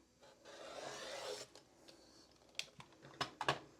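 Fabric for a mystery quilt wall hanging being cut close to the stitching, heard as a steady close rasping slice for about a second and a half, followed by several sharp little clicks and snips.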